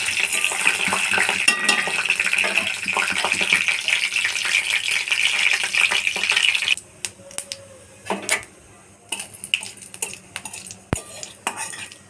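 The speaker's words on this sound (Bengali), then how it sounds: "তেল গরম হয়ে গেছে, দিয়ে দেবো 2টো শুকনো লঙ্কা আর 5 ফোড়ন।" Two dried red chillies and panch phoron sizzle steadily in hot oil, then the hiss drops away and metal utensils clink and scrape against the pan in sharp, separate knocks.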